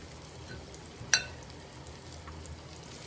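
Cornbread and onion fritter batter drops into hot grease, giving a faint, even frying hiss broken by one sharp clink of a utensil.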